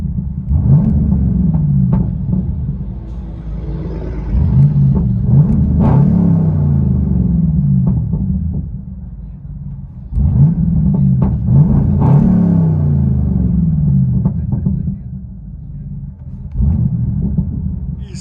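Camaro with an X-pipe delete revving hard from inside the car, several loud throaty bursts of deep exhaust rumble that rise and fall, separated by brief lulls near idle.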